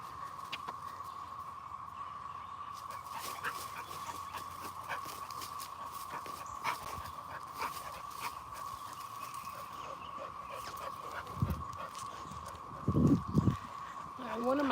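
Cicadas drone in a steady, unbroken high buzz that holds for the whole stretch, with scattered footsteps and scuffs during a walk and brief low voices near the end.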